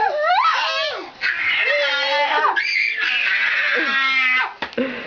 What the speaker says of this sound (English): everybody scream as loud as you can.